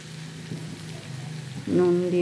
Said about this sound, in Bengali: তো এই মশলাগুলোকে দিয়ে সমানভাবে আরও একবার কষিয়ে নেব।